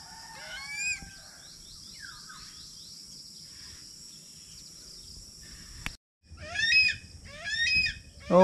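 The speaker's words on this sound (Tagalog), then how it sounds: "Sisiw na manok yata." Young chick peeping in a tree outdoors, a series of high, sharp, chirping calls in short bursts, fairly close, over a steady background hum of insects, with no talking.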